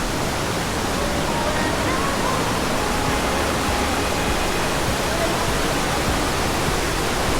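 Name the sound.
Ditumabo Falls waterfall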